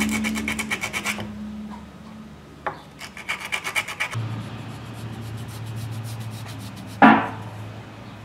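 A blade scrapes and rasps in short rhythmic strokes across a small wooden duckling lure body while chamfer lines are carved, with bursts of rubbing separated by brief pauses and a sharper scrape near the end.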